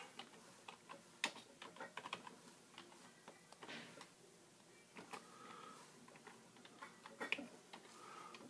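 Keys click on a computer keyboard while entering text into an Excel spreadsheet, soft irregular taps in short runs, faint and close in a quiet room.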